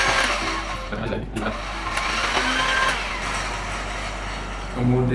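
Stick blender whirring steadily through homemade papaya soap mixture, a continuous mid-level motor drone with slight variations, and a voice talking over it near the end.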